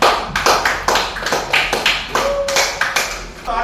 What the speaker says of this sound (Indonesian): Oke, tepuk tangan dulu untuk Aina.